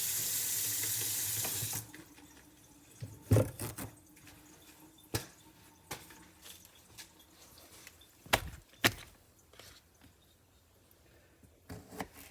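Tap water runs steadily for a couple of seconds while green onions are washed under it, then cuts off, leaving scattered close knocks and clatters in a quiet kitchen.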